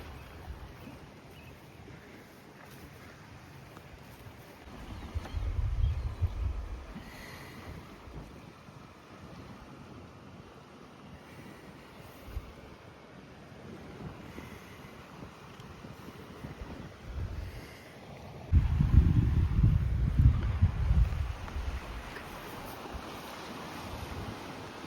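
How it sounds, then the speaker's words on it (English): Wind buffets the microphone beside the Delaware River at Fort Mifflin, with low gusting rumbles swelling twice over a steady background of moving water. "The Delaware River."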